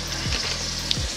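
Bacon sizzling in butter in a hot pan, a steady loud frying hiss throughout the short moment with faint scraping underneath.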